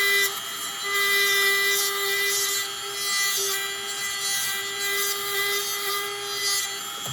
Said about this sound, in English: with a wire brush attachment. So you turn that on. And you kind of go in here like this.